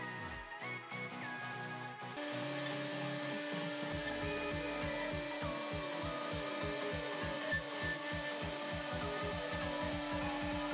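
A home-built CNC router's end mill cuts wood for speaker parts, leaving burn marks from high RPM: a steady high whine and spindle drone with a rapid regular chatter of cuts, moderately loud and continuous, no talking.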